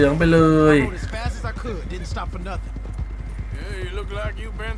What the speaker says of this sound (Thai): ขี่ม้าไปโรงเหล้าครับ